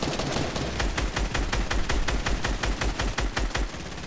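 An assault rifle in Fortnite Battle Royale fires a long, rapid, evenly spaced string of loud shots that runs for about four seconds without pause, with no talking over it.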